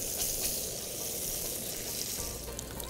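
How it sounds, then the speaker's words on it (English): Pork chop fat renders in a pan at a waterside outdoor kitchen, giving a steady, close, even sizzle that holds without a break for nearly three seconds, with no talking. "start rendering down that fat that's in the pork as well"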